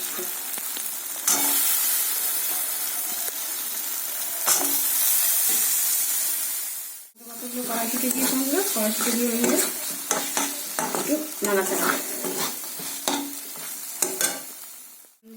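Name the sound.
frying spice paste with green peas in a wok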